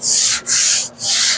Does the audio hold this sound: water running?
no